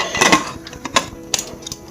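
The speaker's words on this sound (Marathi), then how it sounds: "तर आता आपण कुकरचं झाकण लावूया" Lid of a pressure cooker being fitted and closed over dal khichdi, giving a few sharp metallic clicks and clanks in quick bursts, close by, with no talk.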